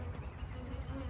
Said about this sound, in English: this guy is about to fill with bees.